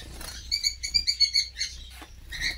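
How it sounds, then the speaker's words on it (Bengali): Bengalese finches kept together in a cage chirp in quick, high twittering bursts, close by and fairly clear, with no voices. "এই বেঙ্গলিগুলি একসাথে রাখা আছে এখন বর্তমান"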